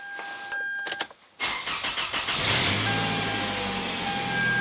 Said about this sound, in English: You hear the car?